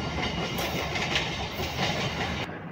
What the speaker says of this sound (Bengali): ট্রেন বার্নপুরে চলে এসছে।